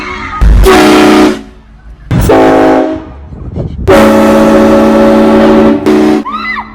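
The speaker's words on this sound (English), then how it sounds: "We bought a flippin' train horn, a mini train horn, semi-truck horn" Loud, blaring horn blasts, three long honks of a mini train-style air horn mounted on an e-bike, close by, with brief pauses between them.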